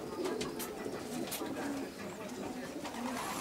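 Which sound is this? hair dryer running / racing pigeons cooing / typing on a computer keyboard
racing pigeons cooing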